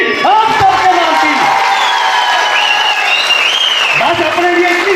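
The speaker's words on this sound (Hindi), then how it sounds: "इसलिए एक जबरदस्त ताली आप सबके नाम की" An indoor hall audience claps and cheers together in a dense, sustained burst of applause with whoops, while a voice keeps speaking loudly over the noise.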